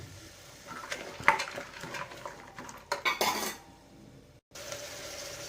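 Potatoes and beans are tipped into a cooking pan for a Kannada beans kalu curry, bringing clattering metal knocks and scrapes of utensil against pan, a couple of sharper clinks, then quieter handling, close up.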